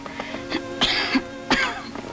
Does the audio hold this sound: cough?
yes